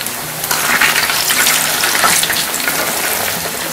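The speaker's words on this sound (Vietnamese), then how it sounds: "mình chiên cánh gà mấy lửa nhỏ thôi" Oil sizzles and crackles steadily as chicken wings deep fry over low heat, a dense, continuous hiss with no voices.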